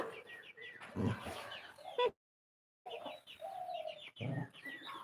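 Chickens cluck and chatter nearby among chirping sparrows eating rice in a garden, with a brief silent gap midway before the clucking resumes.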